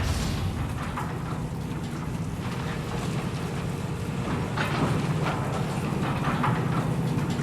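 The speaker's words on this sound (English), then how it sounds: "The rain on your visor" Steady rain patters on a helmet visor in the shooter game Deadrop, forming a dense, constant hiss with scattered sharper drop taps and a low rumble underneath.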